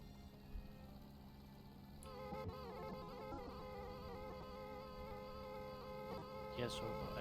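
A mosquito in The Long Drive whines with a thin, continuous insect drone that holds steady and faint for several seconds over low game ambience, with a few soft clicks.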